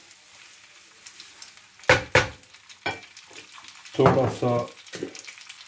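Spaghetti and scampi being stirred and tossed in a frying pan, a few loud scraping and clattering bursts of mixing over a soft sizzle, close up, with a brief spoken remark in between.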